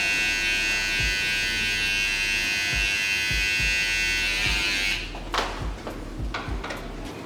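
An electric hair clipper buzzes steadily at close range while cutting a mid fade haircut, then breaks into short intermittent bursts with light clicks as the clipper is worked over the hair.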